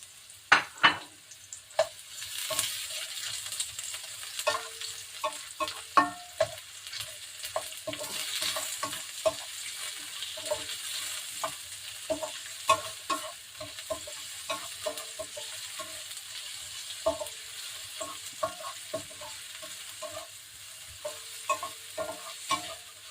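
Red onion sizzles steadily in a hot pan while a utensil scrapes and stirs it in frequent irregular strokes, close and clear, for a home-cooked tinola with ginisang upo.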